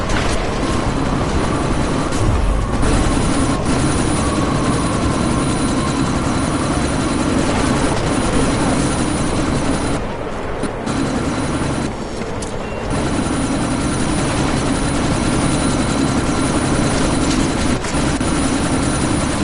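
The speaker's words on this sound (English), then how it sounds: "you need to disable that chopper." A helicopter in the video game Deus Ex: Mankind Divided thunders steadily and loudly throughout, with a constant rotor and engine roar during a sandstorm and brief dips in intensity. No one speaks.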